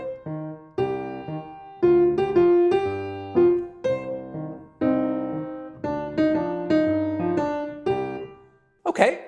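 Solo piano plays a minor II-V-I in the left hand, each bass root struck low and followed by a chord on the second beat, clear and up close with no talking.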